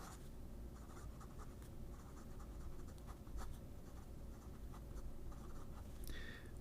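A 14K fine nib on an Omas Ogiva demonstrator fountain pen writing on paper, giving a faint, continuous soft scratch with slight rhythmic strokes, close up and quiet.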